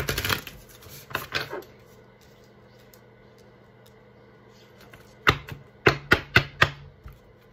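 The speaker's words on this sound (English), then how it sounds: "Wants me to shuffle one more." Tarot cards being shuffled by hand: a burst of riffling flicks at the start, a quiet stretch, then a run of five or six sharp, close card snaps and slaps, with no talk.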